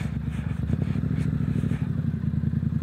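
Triumph Street Scrambler motorcycle ridden along a narrow rutted off-road track, its engine giving a loud, close, steady rumble with clattering from the bike being thrown around.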